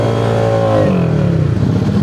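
Yamaha Aerox 232cc scooter with a rebuilt exhaust pipe revs on a test ride, its engine tone rising and then dropping into a rough, throaty idle close to the microphone.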